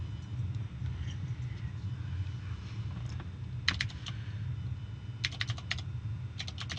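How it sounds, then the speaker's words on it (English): Computer keyboard typing comes in short clattering bursts of rapid keystrokes, a few early taps and then two quick runs, over a constant low background rumble. "Lily, I need to access my keyboard right now"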